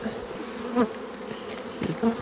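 Honey bees buzz steadily around an opened April hive box in an apiary, a low, continuous drone at moderate distance with a couple of louder swells as individual bees pass close.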